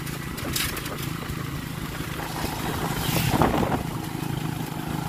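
Strong typhoon winds of Pepito in Pangasinan roar and buffet the microphone in a continuous noisy rush, swelling into a louder gust midway before easing slightly.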